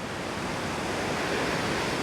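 The Reekie Linn waterfall, a two-tier falls of 6 and 18 metres dropping into a deep pool, roars as a dense, steady broadband rush of falling water, close and continuous with no voices.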